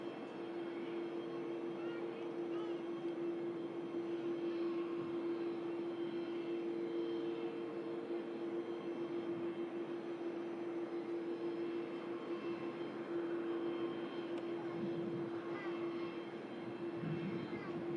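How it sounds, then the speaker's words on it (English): A TAP Air Portugal airliner taxis at Manchester Airport, a steady distant engine drone with a sustained tonal hum, faint and continuous throughout. "TAP Air Portugal heading out to Lisbon, taxiing out."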